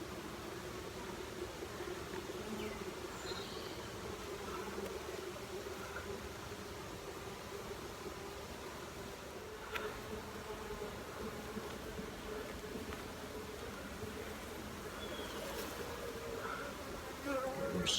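Honey bees in an opened hive during a split, a dense continuous buzzing drone close by, steady throughout with a few sharper individual bee passes and faint handling noises.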